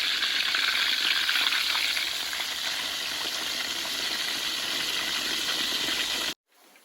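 Grouper fish frying in hot oil in a rustic home kitchen, giving off a steady, bright, hissing sizzle up close that holds constant for several seconds before cutting off abruptly.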